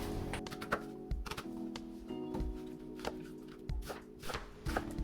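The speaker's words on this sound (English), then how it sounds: "Keep chopping into small pieces." Steady knife chopping vegetables into small pieces on a cutting board, quick repeated thuds in an uneven rhythm, close and moderately loud with no talking.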